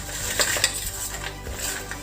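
Cashews tossed with spices in a pan, a utensil scraping and clinking against the metal in a steady stirring rhythm with a few sharper knocks, close and clear with no talking.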